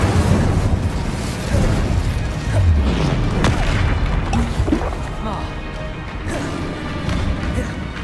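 Explosive and fire spell blasts in the video game Hogwarts Legacy crash and boom in rapid bursts, loud and close, layered over busy combat sound with whooshing swells, and no clear talk.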